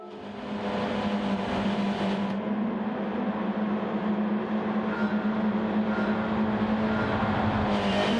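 Pack of race cars pulling away at the start of a sim racing video game race, a loud sustained engine roar that holds steady and builds slightly, with no talk.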